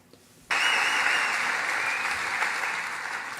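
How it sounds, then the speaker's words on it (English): Loud crowd cheering and applause from the Pod Save America hosts for J.D. Vance, bursting in suddenly and holding as a steady, dense roar in the background. "in the background, you can hear the Pod Save America guys cheering for J.D. Vance"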